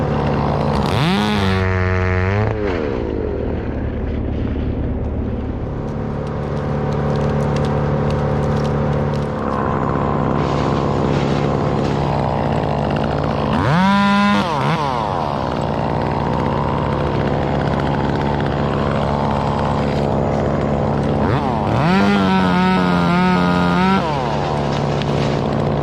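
A chainsaw revs in bursts while cutting limbs, the engine surging loudly three times against a steady idle drone, close by and outdoors with no talk.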